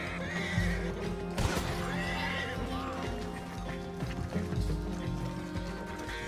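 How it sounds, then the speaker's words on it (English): In the Red Dead Redemption 2 video game, a horse gives a loud, close neigh, then a second whinny, while hooves clip-clop beneath under a steady background of game ambience. "Take one of their horses."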